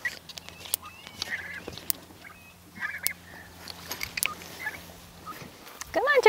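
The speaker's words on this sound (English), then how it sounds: "Turkeys are so funny." Turkeys on a farm gobble and call in short scattered bursts, fairly close, over a low steady hum, with a person talking briefly at the end.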